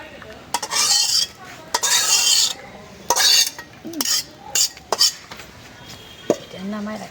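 A cooking pot is lifted off a stove and set down in a home kitchen, producing a series of sharp clanks and scraping knocks with bursts of hiss between them, close and fairly loud, with occasional voices.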